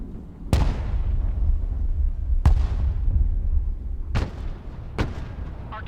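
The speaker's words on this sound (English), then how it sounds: "Artillery at your I command." Artillery in the video game Broken Arrow fires four sharp, loud booms at uneven intervals, two of them close together near the end, each followed by a brief rumbling tail.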